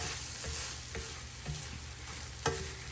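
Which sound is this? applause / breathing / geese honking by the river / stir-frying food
stir-frying food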